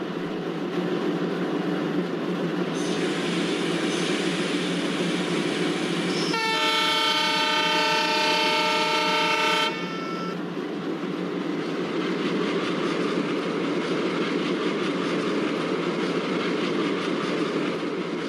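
A KJM-based WDM3A diesel locomotive hauling the Shivamogga Town–KSR Bengaluru passenger train on Indian Railways' South Western Railway, its engine drone steady and close throughout, with a loud multi-tone horn blast sounding for about three seconds midway.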